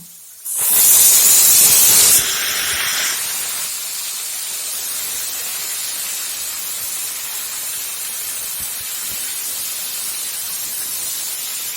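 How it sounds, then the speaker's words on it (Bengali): Cauliflower added to frying potatoes in a pan sets off a loud sudden burst of hissing oil that eases after a few seconds into a steady, close sizzle, with no talking. "আমি আলুর সঙ্গে ফুলকপিটাও ভেজে নেব"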